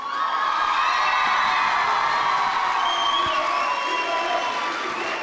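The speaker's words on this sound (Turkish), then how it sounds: "Bir alkış alalım mı?" A school audience at a debate final cheers, whoops and shouts loudly and continuously, with children's voices prominent in a dense, close crowd roar that holds for several seconds.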